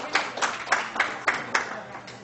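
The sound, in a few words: audience clapping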